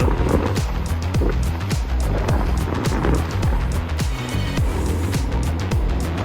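Riding an iEZway EZ8 electric scooter at about 20 km/h, with a steady loud rolling rumble and wind rush, and repeated rhythmic thuds and rattles as the wheels pass over bumps.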